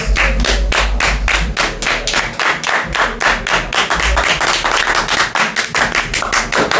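An audience claps in steady unison like a football crowd, loud sharp beats at an even tempo that keep going throughout, with a brief wobble in the rhythm partway through.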